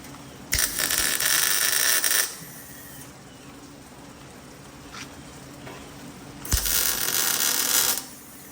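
Two bursts of rapid ratchet wrench clicking while fitting exhaust on a 1971 Dodge Charger, each lasting about two seconds, separated by a quiet pause, close and fairly loud.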